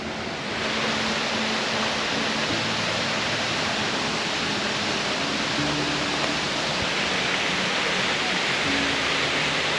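A waterfall on a wooded hiking trail roars steadily and loudly, a dense, constant rush of falling water close by throughout.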